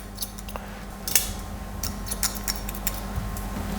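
Scissors snip through hair during a slick-back medium-length haircut, a few quiet, close, crisp clicks scattered over a low background hum, with no talking.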